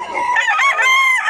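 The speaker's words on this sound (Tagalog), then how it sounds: "Maraming manok to." Chickens at a busy Philippine market, a loud close rooster crow blending with clucking hens in a short continuous burst.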